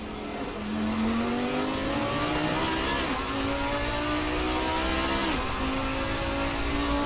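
Race cars roar around Monza in Assetto Corsa, a steady loud engine drone with rising and falling pitch sweeps as gears shift, another car close alongside, no voices.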